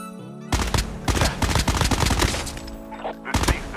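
Rapid bursts of MX9 submachine gun hipfire in Call of Duty Mobile, a dense string of sharp close shots with a short pause near the end before a final burst.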